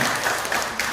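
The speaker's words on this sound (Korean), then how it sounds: "응원의 박수 한번" A church congregation applauds during a Sunday service in Iksan, a steady wash of many hands clapping close and fairly loud for the whole moment.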